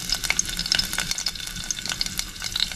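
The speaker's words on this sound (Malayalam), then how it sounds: "അതിലേക്ക് നമ്മൾ വെളുത്തുള്ളി, ഇഞ്ചിയും കൂടിയിട്ട് നന്നായി വഴറ്റി എടുക്കാൻ പോകണം" Garlic and ginger sautéing in hot oil in a small home kitchen, a steady close sizzle with crackling pops and occasional scraping stirs, no voices.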